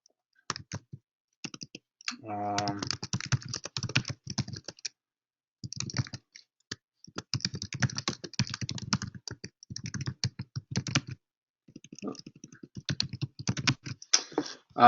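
Fingers type on a computer keyboard in quick bursts of close, crisp key clicks separated by short pauses, steady and moderately loud, with no talking.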